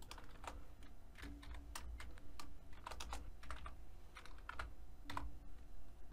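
Steady, close typing on a computer keyboard as React code is entered, fast irregular clicks running for several seconds with brief gaps and no voices.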